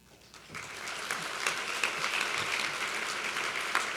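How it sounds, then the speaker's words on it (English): An award ceremony audience at a National Philanthropy Day event breaks into applause, rising quickly from quiet and holding as a moderate, somewhat distant wash of clapping. "Hold your applause."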